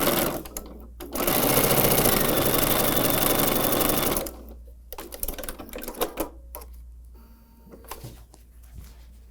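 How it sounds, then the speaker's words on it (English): Sewing machine stitching a quarter-inch seam on a quilt block for a Christmas tree table runner, a loud steady mechanical whir running about three seconds, followed by quieter fabric handling and small clicks. "We'll sew that with that 1/4 inch seam allowance as well"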